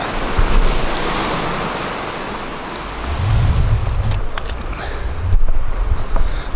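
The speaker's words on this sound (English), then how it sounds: "The tide's getting really high though" Ocean surf rolling in at high tide, a steady loud wash of breaking waves with heavier surges partway through, buffeted by wind noise on the microphone.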